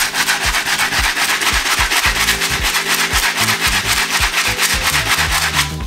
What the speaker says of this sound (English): Get the stiff bristle brush one more time.